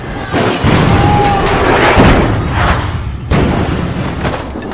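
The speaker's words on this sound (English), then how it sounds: "a massive explosion destroys the ticket station" A heavy, rumbling explosion with crashing debris, loud and dense, followed by a second booming surge.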